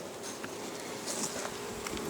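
Honeybees at an apiary hive beside frozen orchards give off a steady, diffuse buzzing hum at close range, with no one talking.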